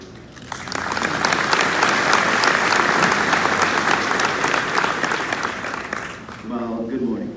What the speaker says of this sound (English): give a round of applause to Mr. Lynch and the rest of the speakers today